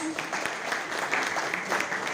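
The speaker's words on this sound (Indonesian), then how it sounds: "berikan tepuk tangan untuk Risa" Audience applause for Risa at a school human-rights discussion event, a steady moderate patter of hands sustained through the whole stretch with faint voices mixed underneath.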